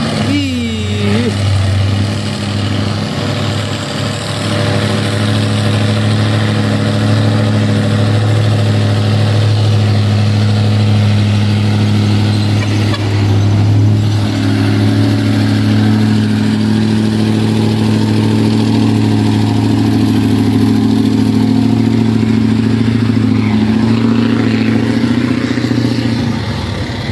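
Trucks and traffic on a busy road at Bukit Kodok, with a loud, steady low engine drone and rumble running throughout, with a voice talking over it at times.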